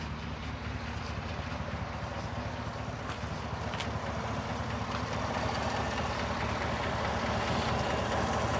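A 2017 Chevy Silverado with the 5.3 engine idles steadily with a suspected lifter tick, a constant close engine drone with a fine rapid ticking texture running through it, no talking.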